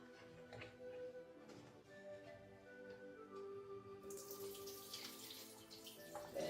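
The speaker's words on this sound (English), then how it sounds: "I'm going to pour the water off the beans." Water pours and splashes into a sink as it is drained off soaked beans, a faint trickle building to a fuller rushing stream near the end.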